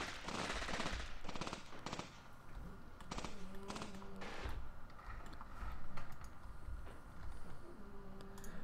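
Gunfire from the WWII tactical game Graviteam: Mius Front, as a commander fires on an enemy position: bursts of rapid game gunshots at moderate distance, with intermittent mechanical tones, and no talk.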